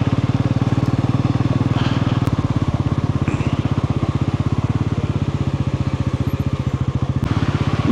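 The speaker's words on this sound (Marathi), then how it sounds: "आणि आता बाईकवरती सुशांतचा भाऊ बाईक चालवतोय" Motorbike ridden along a road in the Konkan region near Marleshwar, its engine running steadily and close with a dense, even exhaust pulse throughout, a little wind noise on top.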